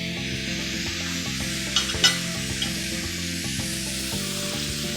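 A seasoned salmon fillet fries in a pan on high heat, giving a steady close sizzle. A faint, regular rhythmic pattern runs underneath, and a couple of brief pops rise above it midway.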